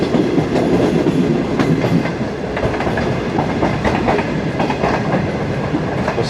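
A Green Line passenger train rolls on after a long halt, with steady loud rumble and clickety-clack of wheels over rail joints heard from inside the carriage.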